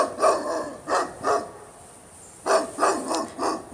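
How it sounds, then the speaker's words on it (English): A dog guarding its home barks at someone walking past the house: sharp, close barks come in two clusters of three or four, with a short quiet gap between them. "This dog has been barking at me probably for 10 years."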